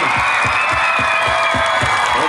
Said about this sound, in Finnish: semmoiset suuret vielä aplodit tämän tapahtuman järjestäjille kerran